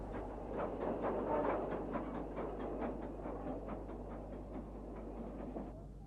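Steam locomotive train rolling past at moderate distance, a steady rumble with a repeating clickety-clack of wagon wheels over rail joints throughout, continuous and without voices.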